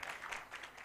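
An audience at a meditation leaders' conference claps in a brief, faint patter of applause that sounds distant and rises and falls in a few soft waves.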